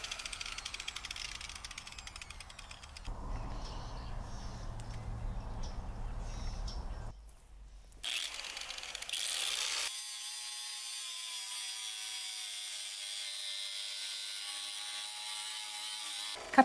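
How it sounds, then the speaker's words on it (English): An angle grinder cuts rebar outdoors in a garden with a harsh, grinding buzz that changes pitch as it bites into the metal. The cut then drops into a steady high whine from the spinning disc. "I'm using my angle grinder to cut off the two pieces"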